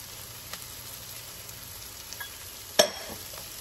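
Beef sizzling in a pan with onions and mushrooms, a steady soft hiss of frying with a few faint stirring scrapes and one sharp clack near the end, no talk.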